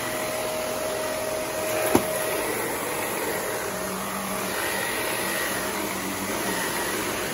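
Shark vacuum cleaner running with its brush roll, after a repair for a brush that would not spin, a steady loud motor whine and airflow roar with a single sharp click near the start, close by and without talking.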